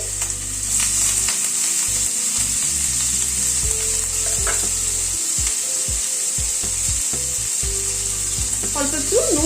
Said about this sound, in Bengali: তেলটা গরম হওয়ার পরে পনিরটাকে দিয়ে দিচ্ছি